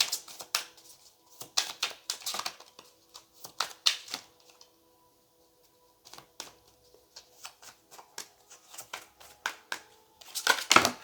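Tarot cards shuffled in repeated quick riffling bursts, crisp papery flutters and clicks close up, with a quiet pause midway before a final dense shuffle.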